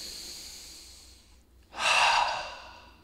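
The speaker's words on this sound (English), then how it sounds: "I'll take a deep breath and get grounded." One deep, close breath is drawn in after a brief pause, a full airy inhale that swells loudly and then slowly fades, heard alone without talk.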